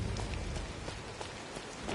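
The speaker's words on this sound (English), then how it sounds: "I despise rain." Steady rainfall in the video game Disney Dreamlight Valley, a dense patter of drops on surfaces heard close and continuous.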